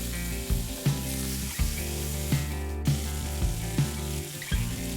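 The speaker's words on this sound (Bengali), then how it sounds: "এবার এখানে কেটে রাখা আলুগুলো ফ্রাই করতে দিয়ে দিলাম" Cut potatoes frying in hot oil with curry leaves for a Bengali chirer polao, a steady close sizzle broken by several sharp pops and stirring knocks, no voices.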